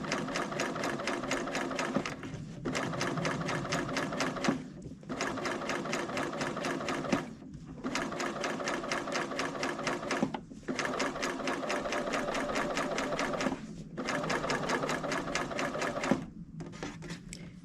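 A Bernina utility serger runs with no fabric, sewing on thread alone, in loud steady high-speed bursts of rapid needle chatter. Seven runs are split by short pauses, with no talking.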